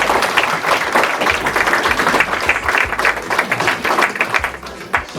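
Warm, sustained applause from a crowd of diners at a club Christmas dinner, dense, even clapping filling the room for several seconds with a slight dip near the end.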